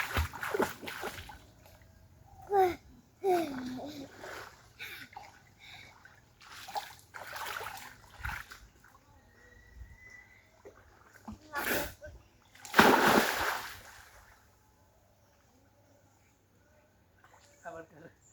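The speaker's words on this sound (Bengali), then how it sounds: "এখান থেকে সাঁতার কেটে কেটে এই পর্যন্ত যাও" Splashing from someone swimming in water comes in irregular bursts, one louder splash standing out, while people talk and call out nearby.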